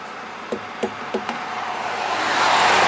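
Four dull knocks tap on a vehicle's tire at a steady pace, near and fairly soft, over a constant background hiss that swells toward the end.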